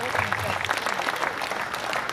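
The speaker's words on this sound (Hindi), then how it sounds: "जोरदार तालियां पूरा सदन उठाए।" A crowd at a Hindi poetry gathering in Sujangarh applauds as a poet takes the stage, with dense, steady clapping at moderate distance and a faint voice underneath.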